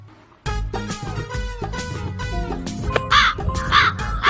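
A crow in a garden caws loudly and close, with a series of harsh, rhythmic calls that grow more intense toward the end.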